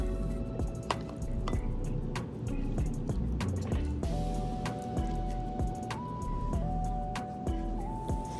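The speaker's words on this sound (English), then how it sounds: "I'm including the oil that the olives were packed in." Olive packing oil poured into pasta, heard as close, wet drips and glugs with squishy liquid clicks, fairly quiet, with faint tones behind.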